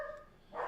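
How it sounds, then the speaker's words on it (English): A dog shut in a kitchen gives a single short bark, heard indoors through a closed door at moderate distance. "I know you guys hear Max in there barking."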